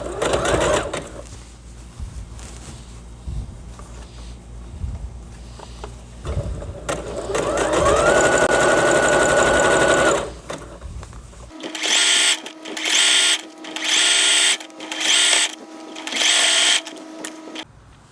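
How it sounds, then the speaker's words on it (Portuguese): A straight-stitch domestic sewing machine sews elastic for a gym top in bursts of steady whirring, first under background noise and then in several distinct runs with brief pauses between them. "E vou começar a costurar"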